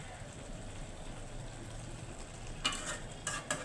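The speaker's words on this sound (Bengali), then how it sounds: "তারপর ডালগুলা ভাবলাম ভুনা করে আনি" Lentils (dal) stir-fried in a pan give a soft, steady sizzle. Near the end come a few brief, brighter scraping bursts as the spoon stirs.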